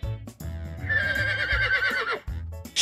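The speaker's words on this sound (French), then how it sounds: "Cheval." A horse whinnies in a long, wavering neigh that trembles for over a second, loud and close, framed by brief noises before and after.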